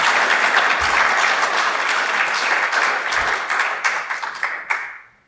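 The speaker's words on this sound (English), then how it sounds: "Now I have finished and you can applaud." Sustained audience applause after a talk at a Suomen Ekonomit event, dense and steady for several seconds before thinning into scattered claps and fading out.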